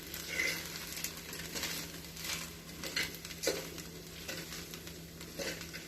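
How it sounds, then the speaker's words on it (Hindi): Cooked pasta being stirred and mixed through its sauce in a pan on the stove: continuous soft sizzling under repeated scraping and stirring strokes, with a few brief clinks of utensil against the pan. "अच्छे से मिक्स कीजिए ताकि पास्ता उसमें अच्छे से टेस्ट"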